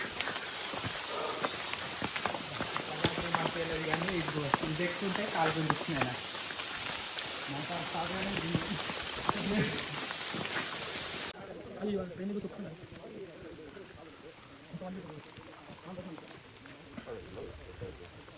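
Rain falls steadily on the hillside walking path to a Hindu temple in the UK, a constant close hiss of drops. Talking runs over it for much of the first part, and it sounds quieter later on.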